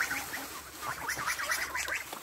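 Chickens and geese at feeding time make a continuous mix of honking and clucking calls, moderately near, with overlapping cries running steadily throughout.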